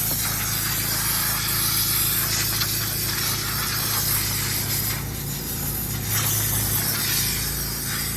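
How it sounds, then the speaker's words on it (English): A VX5000 pointer blasts a steady, loud hissing spray of air and cleaner onto carpet stains, broadband and continuous for the whole stretch, with a low machine hum underneath and brief surges in intensity. "I'll use the pointer out of my VX5000 to treat those, and a microfiber towel"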